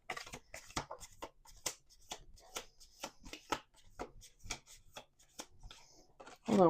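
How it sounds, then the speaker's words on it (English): A deck of cards is shuffled close up in quick, sharp riffles and slaps in an uneven rhythm, with a soft voice heard briefly near the end. "Let's do 2 more shuffles."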